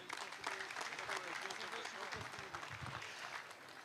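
A crowd applauds a footballer at a club's centenary celebration. The clapping is steady and fairly faint, with voices murmuring beneath it.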